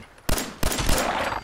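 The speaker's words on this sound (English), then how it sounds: "I can hear gunfire off in the distance." Gunfire in Fallout 4 cracks out as a couple of sharp reports followed by a sustained rattling burst, like distant automatic fire; no voices.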